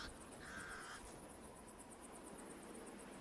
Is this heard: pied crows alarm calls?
yes